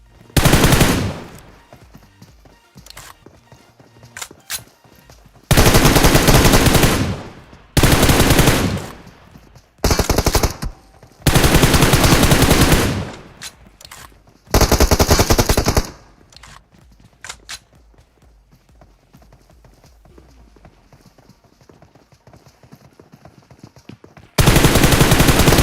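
Gunfire in PUBG Mobile at the Georgopol Containers, loud bursts of automatic fire in several separate volleys with quiet gaps between them, close and dominant, ending with a final burst as a squad is wiped out.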